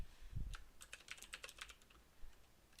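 Typing on a computer keyboard: a quick burst of clicky keystrokes after a soft thump, close and fairly quiet, with no talking.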